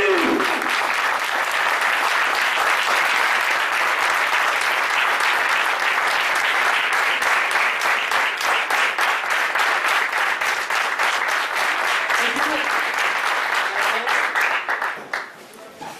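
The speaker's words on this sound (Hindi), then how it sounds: "आप सबकी तालियों में वारहाना इस्तकबाल में तशरीफ लाते हैं डॉक्टर आरिफ सदीकी।" A large audience at a training seminar applauds steadily and loudly to welcome a speaker. The dense clapping holds for about fifteen seconds and then fades out quickly.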